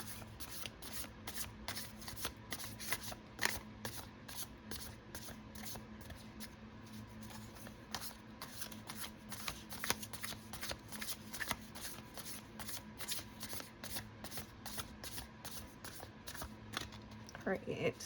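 Tarot cards are shuffled continuously in quick, crisp riffles and slaps, close and steady throughout, with a faint low hum underneath and no talking.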